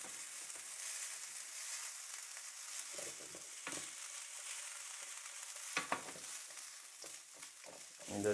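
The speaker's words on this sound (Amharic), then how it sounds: "ሽንኩርቱን ትንሽ ጠበስ አደርገዋለሁ።" Onions fry in a pan with a steady sizzle, broken by the scrape and clatter of a utensil stirring them at intervals, loudest near the end.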